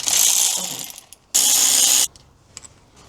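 A hand ratchet turns 10mm thermostat bolts on a BMW E46 in two quick bursts of rapid, close metallic clicking. Quiet pauses and a few faint taps separate and follow the bursts.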